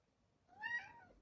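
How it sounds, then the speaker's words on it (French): A cat gives a single faint meow, rising then falling, about half a second long, in an otherwise quiet room. "Il attend qu'une seule chose, ce chat. Vous l'entendez? Il vous parle."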